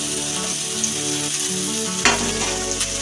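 Beans and slit green chilies sizzle and fry steadily in a pan as a utensil stirs them, with a clattering scrape of the spoon against the pan near the two-second mark, close and continuous, no voices.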